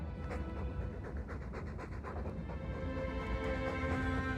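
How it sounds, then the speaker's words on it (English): Heavy, rhythmic dog panting from Dragon Age 2, fairly quiet and close, repeating steadily over a soft ambient game background. "All that noisy dog breath, day in, day out, make him stop."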